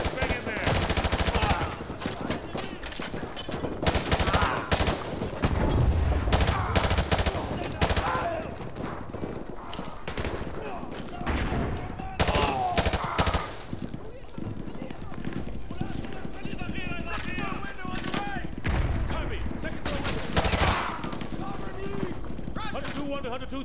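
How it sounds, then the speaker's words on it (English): Heavy gunfire fills a Call of Duty: Modern Warfare 2 battle, with dense bursts of automatic fire and single shots coming near and loud, mixed with soldiers shouting throughout. "We're taking heavy fire from the school."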